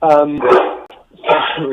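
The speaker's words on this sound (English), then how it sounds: "that's my dog in the background" A dog barks in the background of a live radio talk stream, sharp yappy bursts mixed in with someone speaking, close and loud, with a short gap between.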